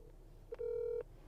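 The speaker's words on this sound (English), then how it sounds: "And you can hear the phone ringing." A single ringback tone on a phone call placed over Starlink Wi-Fi calling, a short blip and then a steady half-second tone, faint and thin like it is coming through a handset.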